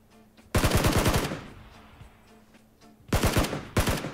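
Loud close bursts of automatic gunfire in the PUBG video game, two rapid volleys of sharp repeated shots separated by a quieter stretch, followed by a short final burst.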